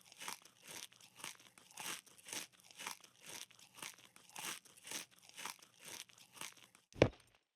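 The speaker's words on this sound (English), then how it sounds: "Eat this onion." A character in the survival video game Scum chews an onion with steady, rhythmic crunching bites for several seconds, finished by a sharper single crunch near the end, with no talking.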